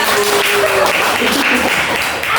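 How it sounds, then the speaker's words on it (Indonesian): A classroom of students clapping together, loud and close, a dense burst of applause that stays steady across the whole moment. "Beri tepuk tangan untuk kita."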